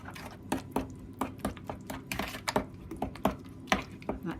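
Soaked chopped prunes being stirred into a 1950s-style traybake cake batter in a bowl, giving a run of soft, wet clicks and squelches at an uneven rhythm, close and fairly quiet.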